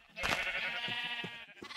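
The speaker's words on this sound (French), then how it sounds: "Soit t'as énormément de chance et t'apparais devant des moutons." Sheep bleating in the video game Minecraft, a wavering, drawn-out bleat that carries loud through most of the moment, with a few softer sounds trailing after.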